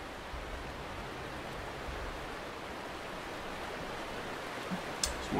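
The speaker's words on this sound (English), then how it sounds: "Waterfall is very loud." A loud waterfall roars in the stealth game Thief, a dense, steady rushing wash of water that fills the whole stretch, with a brief knock near the end and no voices.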